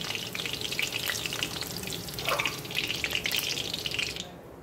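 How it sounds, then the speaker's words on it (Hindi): Okra frying in hot oil, a steady close crackling sizzle with fine spattering pops throughout, continuous and fairly loud, with no voices. "सारी भिंडी को हमें फ्राई करना है इसी तरीके से"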